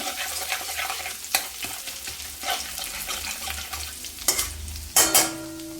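Grated ginger is stirred in a hot oiled pan, giving close, continuous sizzling with scraping spoon strokes and a few louder clattering knocks near the end.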